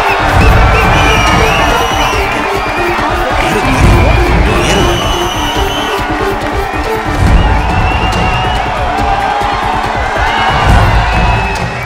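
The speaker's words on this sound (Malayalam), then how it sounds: "കണ്ടില്ലേ അച്ഛന് ജനങ്ങൾ കൊടുക്കുന്ന കയ്യടി?" A large crowd of fans cheers and applauds continuously, with shouts and whoops rising above a dense, loud wall of clapping that holds steady throughout.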